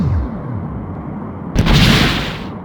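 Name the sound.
photon torpedo fired and exploding, Star Trek: A Final Unity video game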